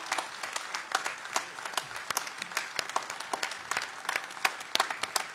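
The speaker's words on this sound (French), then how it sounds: "Et je vous invite à les applaudir très fortement." Audience applause at a political rally in Clermont-Ferrand for striking workers, a dense crackle of many hands clapping at moderate distance, sustained and fairly even throughout.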